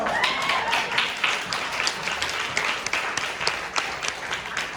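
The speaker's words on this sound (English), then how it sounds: "Maybe we'll give them another round of applause." A room of guests at a Red Cross charity luncheon claps for two fashion guests, a scattered, moderately loud round of hands with irregular sharp claps that keeps up through the whole stretch, with faint talk beneath.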